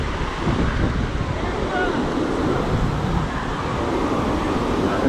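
Rough surf rolls in at a beach on a cold day, with steady loud broadband wash and constant wind buffeting the microphone throughout.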